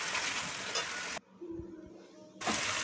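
Masala with turmeric and a little sugar fries in a pan, a broad hissing sizzle that drops away for a moment into quiet stirring knocks, then the loud sizzle returns; no voices.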